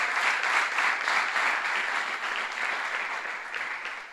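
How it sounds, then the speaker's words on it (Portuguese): A Portuguese-speaking church congregation applauds the Lord during a preaching service, many hands clapping in a sustained, even roar that fills the room and tapers slightly at the end. "Alguém pode aplaudir o Senhor aqui?"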